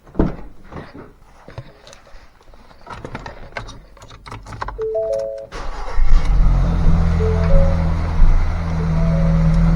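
A 2017-2019 Ford Escape with low coolant and a suspected head gasket fault starting up: clicks and rustles near the car, then the engine catches and settles into a loud, steady idle close by.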